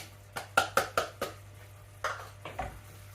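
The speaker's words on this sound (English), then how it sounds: "So we're going to add in the red onion first." Chopped red onion hits a pan and is tossed about, giving a quick run of sharp clatters and scrapes followed by a few more spaced knocks, close and fairly quiet over a steady low hum.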